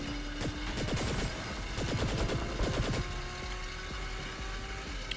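Rapid bursts of automatic gunfire from a VTOL aircraft in the video game Saints Row The Third, loud and dense clusters of shots over a constant engine drone, fading toward the end.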